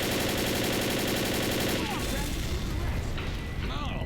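Explosives blowing up in Left 4 Dead during a bridge battle, a loud sustained roar of blasts and crackling gunfire that fades into scattered debris and noise.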